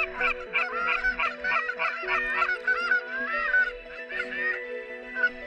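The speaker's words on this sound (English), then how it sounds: "Shortly after legal shooting time, we see a loner goose and call it in." A lone wild goose honks repeatedly at close range on a hunt, its calls overlapping with a goose call blown to lure it in, forming a steady rhythmic run of honks with no talking.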